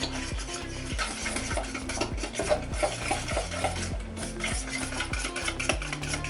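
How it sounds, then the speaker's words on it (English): Cookie dough batter with eggs and vanilla being mixed by an electric mixer, steady whirring with rhythmic knocks of beaters against the bowl, close and continuous while a voice speaks briefly. "2 eggs. 2 teaspoons of vanilla. And we keep mixing."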